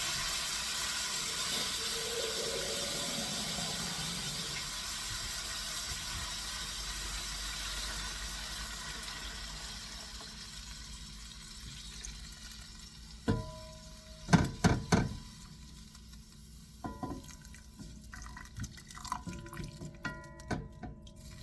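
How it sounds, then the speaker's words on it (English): Water poured into a pot over a bed of sauerkraut for spare ribs, a steady close splashing and trickling that fades, then a few clinks and knocks of kitchenware with no talk. "I'm going to pour water just to cover it."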